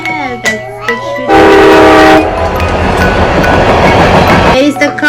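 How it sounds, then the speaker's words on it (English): A toy-style choo-choo train sound plays in a child's game: a loud burst of steady horn-like tones, then a longer rolling rumble of train noise, with small clicks and clatter before and after. "Yeah, that's the choo-choo."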